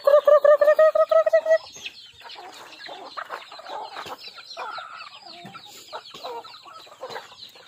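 Farm chickens clucking after being fed, with a loud nearby rooster-like call at the start followed by a busy stretch of overlapping clucks and soft cackles at moderate volume.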